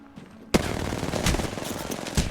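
A sudden burst of rapid automatic gunfire in a video game fight, loud and sustained after a short quiet lead-in, with a few heavier shots punching through the stream.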